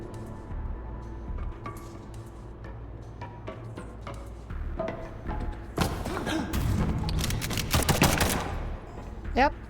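Gunfire from the video game Liberated breaks out in sharp, rapid bursts of shots and thuds, starting sparse and building into dense, loud volleys toward the end.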